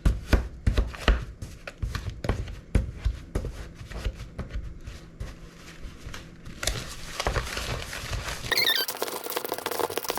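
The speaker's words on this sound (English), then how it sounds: "Then you're just going to mix that all in there." Butter with white and brown sugar is mixed in a bowl for chocolate chip cookies, a run of close, irregular knocks and thuds with scraping, ending in a brief crinkly rustle.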